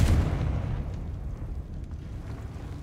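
A Confringo fire-blast spell in Hogwarts Legacy bursts with a loud deep boom at the start, then rumbles and fades into a long low roar.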